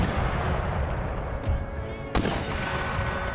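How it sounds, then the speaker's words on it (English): Mortar artillery fire in the battle game Empire: Total War, a single sharp boom rising out of a dense, steady rumble of battlefield noise and distant gunfire. "I have no idea if the mortars are doing any good"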